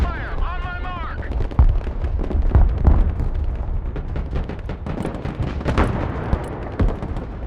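Artillery direct fire in the Broken Arrow war game, with Russian forces invading Lithuania, comes as a dense stream of booming shots and rumbling impacts that mixes with radio voice chatter and keeps steady and loud throughout.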